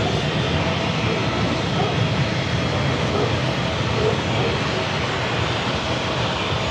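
A Delta airliner bound for Seattle departs San Diego airport, its jet engines producing a steady, dense roar at constant loudness throughout, with no voices.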